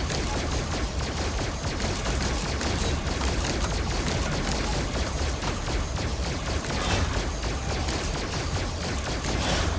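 Dense, continuous gunfire in the Five Nights at Freddy's: Help Wanted video game, a loud, steady barrage of rapid shots running the whole time without pause.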